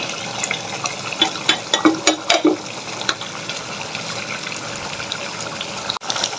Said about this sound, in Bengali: এবার আমি এখানে পানি অ্যাড করে দেব